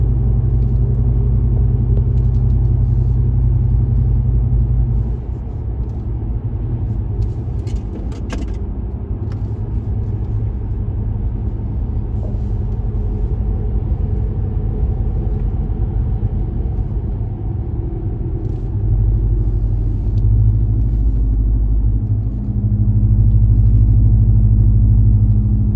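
Deep steady exhaust rumble from a RAM Rebel truck running in MDS cylinder-deactivation mode with muffler and resonator deleted, heard from inside the cab, droning continuously and swelling slightly louder toward the end.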